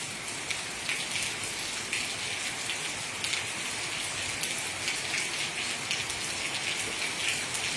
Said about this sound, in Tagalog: bisag hinay lang nga ulan okay na